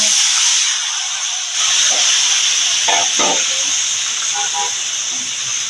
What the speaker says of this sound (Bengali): এখন মাছ ভাজা হয়ে গেছে, এখন সবজিগুলো কষাবো